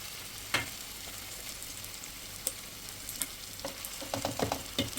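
Fish pieces frying in oil in a pan, a steady close sizzle with a few sharper crackles and spoon stirs, busier toward the end, no talking.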